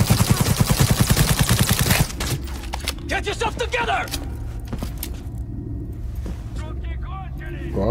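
Rapid automatic gunfire from a gun in Cyberpunk 2077 rattles loudly at close range for about two seconds, then stops, leaving clicks, rustles and faint game ambience.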